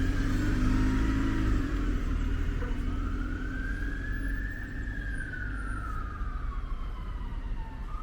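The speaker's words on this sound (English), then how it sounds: "There's a fire engine going by." A fire engine siren passes by outside a police station, rising and falling as the vehicle approaches and recedes over loud road traffic, growing fainter toward the end.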